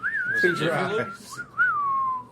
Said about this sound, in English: Trying to do the damn whistle.